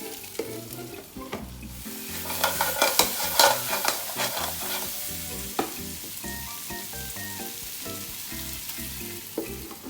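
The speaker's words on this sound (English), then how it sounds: "Now I'm going to toast the crab like this." Kerala-style fresh crab roast sizzles and fries in a pan, with scraping stir strokes bunched in the middle and a steady frying hiss throughout, set under background music.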